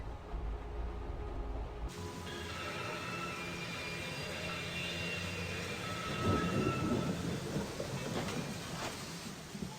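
Thunderstorm in the video game Syberia: The World Before, a low rumble opening the scene, then steady rain-like hiss with a swelling rolling rumble of thunder near the end, moderately quiet.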